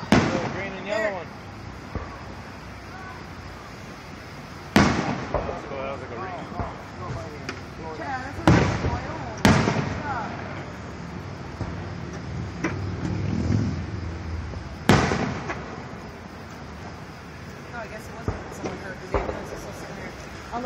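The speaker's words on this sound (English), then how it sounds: "Ooh, pretty fireworks." Sharp firework bangs burst at irregular intervals, some loud and close, with crackling and people talking in the background between blasts.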